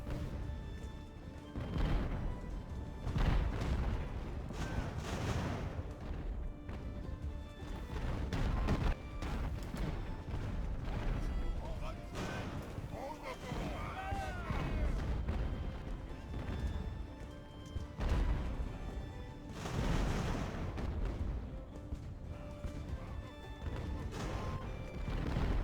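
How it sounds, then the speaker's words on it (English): Mortar fire in Ultimate Admiral: Age of Sail during the Siege of Toulon: repeated heavy booms and crashing impacts spread through a dense, continuous battle din, with several louder bursts standing out. "I'm gonna put my mortar on this 19 and let's see if my mortar can hit it"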